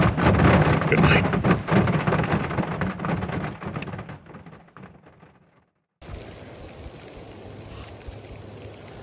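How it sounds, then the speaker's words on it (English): Heavy rain pours onto a truck camper at night during a thunderstorm, a loud, dense roar with low rumbling that fades out, then gives way after a brief gap to a quieter, steady wash of noise. "Went to bed, it was pouring down rain and thundering."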